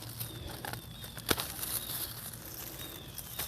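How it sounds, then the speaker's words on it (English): Many birds in a November garden, scattered chirps and flutters of wings with one sharp nearby burst, faint and distant over quiet outdoor ambience. "Wow, there's so many birds. You hear it? There's a lot of birds."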